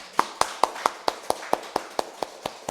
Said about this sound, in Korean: 우리 박수 한번 쳐드리겠습니다.